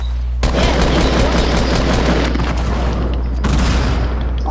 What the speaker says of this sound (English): I'm spamming grenades.